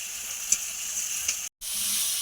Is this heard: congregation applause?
no